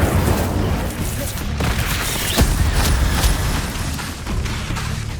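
Hogwarts Legacy gameplay with the Incendio fire spell cast amid other combat: a loud, continuous barrage of booming, crackling bursts. A stronger impact lands near the middle.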